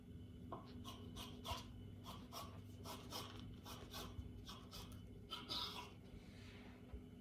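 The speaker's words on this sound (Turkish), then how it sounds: "Böyle şeritler halinde kesiyorum." A knife cuts layered baklava pastry into strips, giving a series of short crisp rasping strokes at a steady rhythm, close and fairly quiet.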